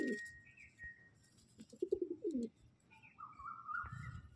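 Soft pigeon coos rumble at close range from a loft of pigeons for sale, mixed with a few higher chirps and whistles, in irregular bursts against a quiet background.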